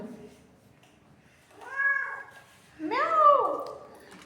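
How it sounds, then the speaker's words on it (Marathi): A tomcat near a village temple gives two drawn-out meows, the second louder and longer, close by against a quiet background. "पहा हे मांजर."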